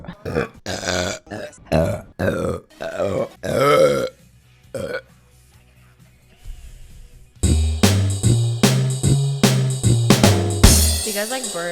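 A string of loud, drawn-out burps comes in bursts, close and prominent, with a quieter stretch in the middle before another long run of belching.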